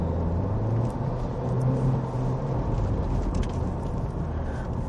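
A Ford Focus Sport hatchback with a 2.0L engine and automatic gearbox drives along, its steady low engine rumble and road noise filling the cabin continuously and fairly loud, with no voices.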